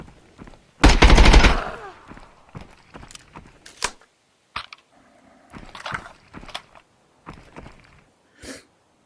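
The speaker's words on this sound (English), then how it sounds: "Shot all the bullets out of my mag, so I have to rechamber it." Gunfire in the shooter game Exfil Zone as a magazine is emptied, starting with a loud rapid burst and followed by scattered single shots and sharp clicks, with quiet gaps between them.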